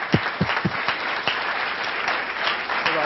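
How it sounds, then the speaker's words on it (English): An audience at an evening class session applauds the students, with a few sharp, close claps at the start swelling into a steady wash of clapping from the whole room, moderately loud. "give a final round of applause to the students"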